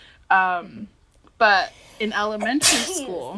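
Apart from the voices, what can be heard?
sneeze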